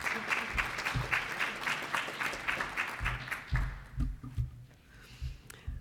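Applause from a conference audience for Deanne McLeod at an Indigenous economic partnership plenary, a dense patter of clapping that thins and tapers off toward the end, with a few low thumps.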